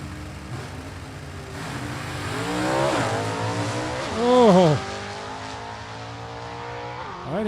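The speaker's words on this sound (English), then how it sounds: "Renfro's Chevy 2 did not sound like it was in first gear when he let that clutch out" Drag race launch of a 1967 Chevy Nova and a 1967 Chevy Camaro at a stick-shift shootout, with engines revving, a rising and falling rev sweep and a brief squealing surge. The cars are moderately distant, with faint crowd or announcer noise underneath.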